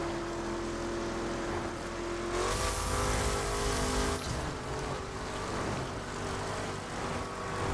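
Several cars drive past in The Crew on PS4, their engine drones and rising whines overlapping in a steady mid-loud wash, with a louder pass in the middle.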